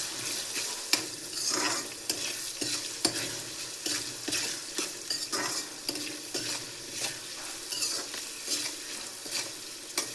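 A spoon scrapes and stirs MTR puliyogare mix with turmeric powder in a hot pan, giving steady rhythmic clinks over a soft sizzle of frying, close and alone without voices.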